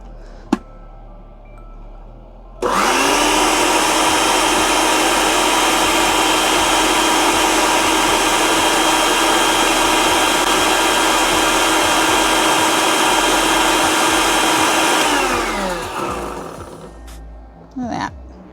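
A blender whirs loudly and steadily for about twelve seconds, mixing homemade mayonnaise with grainy spicy mustard, then winds down, with a couple of brief clicks before and after.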